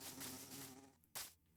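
Bees from a beehive in a Minecraft-style superflat world buzz in a steady insect drone that thins out, followed by a brief louder burst near the end.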